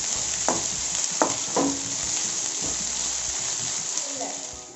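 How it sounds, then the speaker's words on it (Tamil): Onions sautéing in a pan for a prawn biryani-style curry, a steady broad sizzle running throughout with a few brief clinks of stirring on top. "வெங்காயம் வதங்கிக்கிட்டே இருக்கா."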